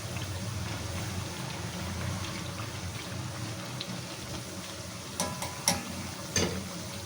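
Potato and onion pakoras frying in a pan of hot oil, a steady soft sizzle and bubble running throughout, with a few sharp clinks and scrapes near the end as the pieces are turned over.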